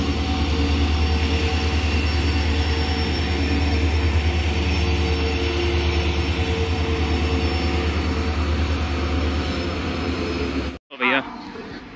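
The Ala Hazrat Express, a Bhuj–Bareilly passenger train, rolls into a railway platform with a loud, sustained rumble of wheels and wagons and a squealing screech from the wheels, and the sound cuts off abruptly near the end.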